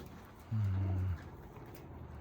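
A single drawn-out coo from an Almaty pigeon, low and close, lasting about half a second over a quiet background.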